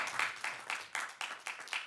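Audience members clap at a city council meeting, a steady rhythmic round of applause with regular beats from several hands, moderately close in a meeting hall.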